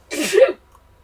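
A single sharp sneeze bursts out close to the microphone, brief and forceful, followed by quiet.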